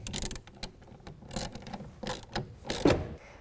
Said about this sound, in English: use our 1/2 inch socket, and tighten it down from the bottom